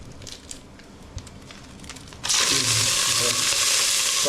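Curry leaves and bay leaf hit hot oil in a chicken rice tempering and burst into a loud, steady sizzle that stays strong to the end, after a quieter stretch of light kitchen rustling, with stirring beneath.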